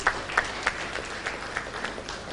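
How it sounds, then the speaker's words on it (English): A conference audience gives a brief round of applause for a gold sponsor, a few distinct claps followed by a thinner spread of clapping, fairly faint and short. "Element, a round of applause, please?"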